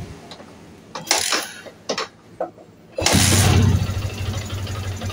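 A Yamaha Vixion motorcycle is kick-started, with a few short mechanical thumps from the kick lever before the engine catches at about three seconds. It then settles into a loud, steady, close-up idle.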